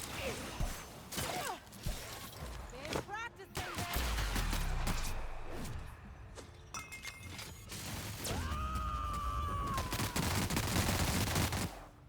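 Pistol fire and combat clatter from The Outer Worlds come in bursts of sharp shots and mechanical clanks, with stretches of louder sustained noise and a rising whine.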